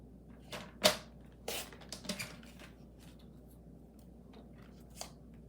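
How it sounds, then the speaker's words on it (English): Paper pieces for a craft project are trimmed down to half-inch size, giving a few soft, close snips and rustles with quiet pauses between them and no talk. "So I'm just gonna cut these down to a 1/2 inch each."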